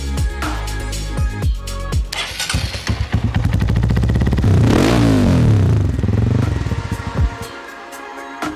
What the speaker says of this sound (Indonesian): Motornya adalah CRF 150L.